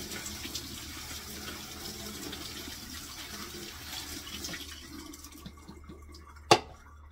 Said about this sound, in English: I'm gonna wash my tomatoes.